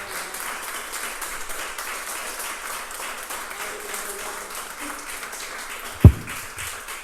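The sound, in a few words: congregation applause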